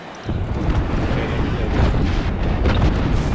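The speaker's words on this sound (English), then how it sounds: "Signaling an airstrike. Airstrike." Airstrike explosions in the video game Apex Legends, a dense, continuous booming rumble that starts abruptly and stays loud and broadband throughout with overlapping blasts.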